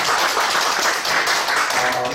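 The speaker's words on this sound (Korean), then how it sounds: "박수로 한번 감사의 박수 한번 드리겠습니다." A church congregation at a revival prayer meeting breaks into applause of thanks, a dense, close wash of many hands clapping that holds steady and loud for the whole moment.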